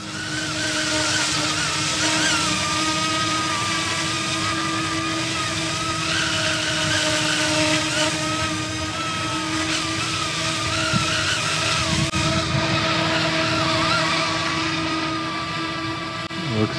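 An Eachine E250 AH-64 Apache ready-to-fly RC helicopter flies outdoors in wind, its motor and rotors giving a loud, continuous whine and buzz that holds steady throughout with no speech.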